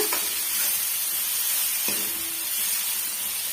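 Tomato bajji mixture being sautéed in a pan sizzles with a continuous bright hiss, and two light clinks of a stirring utensil sound near the start and midway.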